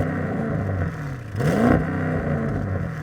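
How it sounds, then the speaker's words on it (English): A 2024 Audi RS7 Performance with valved quad exhausts revs once sharply, its engine note climbing and falling over a steady idle burble, close and loud. "you have valved, essentially quad exhausts at the back that sound insanely good"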